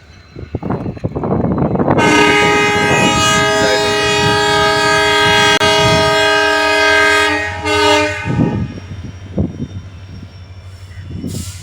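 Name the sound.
train starting to move at station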